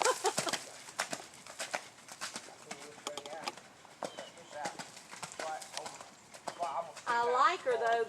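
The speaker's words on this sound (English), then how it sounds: "They don't canter as good through this slop." A three-year-old Quarter Horse canters through sloppy mud on a ranch in Alabama, its hoofbeats a steady, close, rhythmic clip-clop under ongoing talk, with birds calling in the background.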